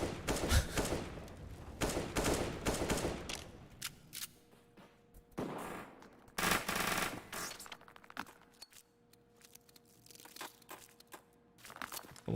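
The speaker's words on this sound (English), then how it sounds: "Why are you shooting?" Rapid bursts of gunfire in a competitive shooter match, with loud clustered volleys early on, a sharp burst around the middle and scattered shots later, alone with no talk.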